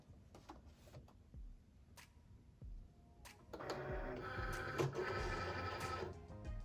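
A Cricut Explore Air 2 cutting machine scores faux suede with soft clicks and ticks, then a quiet motorized whirring with carriage movement builds and continues at low volume.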